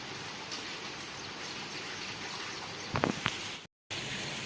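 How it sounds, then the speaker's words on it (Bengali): Heavy rain falls on a rainy day at home, a dense, steady hiss throughout, broken by a couple of brief knocks near the end and a momentary dropout. "কি পরিমাণে বৃষ্টি হচ্ছে।"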